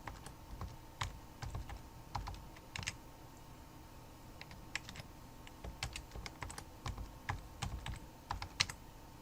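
Someone types a password on a computer keyboard in quick bursts of sharp clicking keystrokes, with short pauses between runs. The sound is close and fairly quiet, with no voices.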